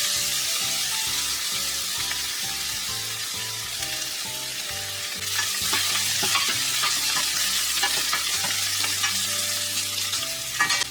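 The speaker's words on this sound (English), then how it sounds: "I'll let these onions cook until they soften up a bit and start to show a little color" Onions cook in butter and oil with a continuous close sizzle, steady and moderately loud, with a few stirring scrapes near the end and no voices.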